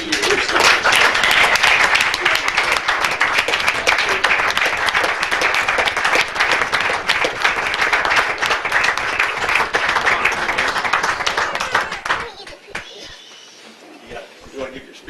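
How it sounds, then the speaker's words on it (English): Audience applause and clapping at a city commission meeting, a dense sustained round of hands that fills the room for about twelve seconds and then stops abruptly, leaving quiet room tone with faint murmurs. "we want to make sure that we give you a round of applause for the many years of service."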